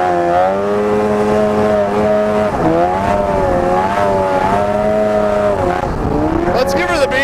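A loud Arctic Cat ZR 800 snowmobile engine drones steadily with harmonic exhaust tones rising and falling as the throttle changes, close and continuous throughout.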